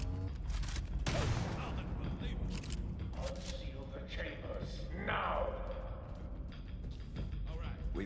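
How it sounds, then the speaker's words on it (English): Video game gunfire in Halo Campaign Evolved, bursts of rapid shots and sharp impacts mixed with game effects and speech, fairly loud throughout. "We shoot our way out."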